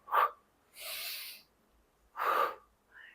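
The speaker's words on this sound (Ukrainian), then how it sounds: "Вдих через ніс, видих." A person doing a cool-down exercise takes audible breaths in through the nose and out, four separate close, breathy bursts with short pauses between them.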